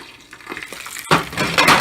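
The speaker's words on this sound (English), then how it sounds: "I'm frying up some bacon." Bacon frying in a pan in a home kitchen: after a second of quiet clinks, a loud, steady broadband sizzle starts abruptly and keeps going, close to the microphone with no talking.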